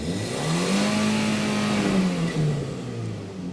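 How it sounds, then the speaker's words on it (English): A cheap used car's engine idles and revs with an exhaust blow, making a close, loud, rough drone whose pitch rises and falls once, with no voices over it. "Has an exhaust blow."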